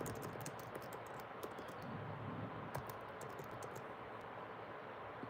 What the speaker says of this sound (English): look at me typing Hebrew and everything